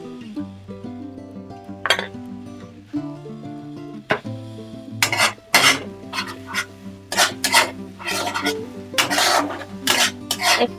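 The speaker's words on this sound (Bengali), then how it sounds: "ভালো করে নাড়াচাড়া করব" A spoon scrapes and rubs through turmeric stirred into melted tomato in a pan for a fish-bone chorchori, making repeated gritty rasps and light clinks against the metal, close and fairly loud, with a steady background hum.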